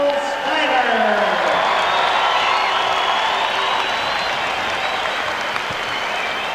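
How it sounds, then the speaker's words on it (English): Dense, sustained applause and cheering from a large crowd at an Iowa college wrestling dual in Carver-Hawkeye Arena, steady and loud throughout with scattered whoops rising above the clapping. "Some of the happy people in the Iowa crowd in Carver Hawkeye"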